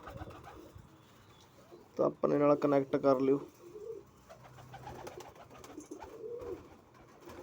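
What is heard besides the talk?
pigeons cooing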